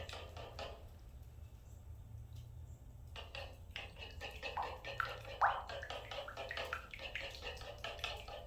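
Hot broth splashes and trickles into an egg mixture in a 17th-century style kitchen, with soft pouring, faint clinks of vessels and a few louder splashes over a low background hum.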